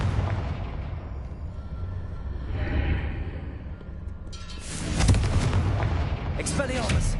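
A Confringo blasting spell bursts in Hogwarts Legacy, a booming explosion swelling near the middle and again toward the end over a steady rumbling game background, with a voice speaking under it.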